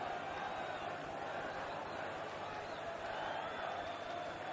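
Large football stadium crowd at a Liverpool versus Newcastle United second division match, a sustained distant roar and chanting that swells slightly, with no clear voices up close.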